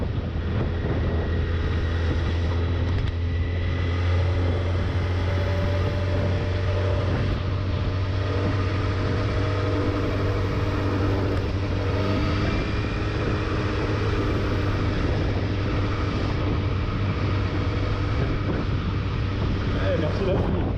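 A Honda CBR1000RR Fireblade motorcycle is heard from on board at road speed, its steady engine drone buried under heavy, continuous wind buffeting.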